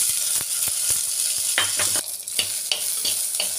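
Small shallots go into hot oil for a peanut kuzhambu, giving a bright, loud sizzle broken by sharp spoon scrapes and clatter. The sound is close by, with no talking.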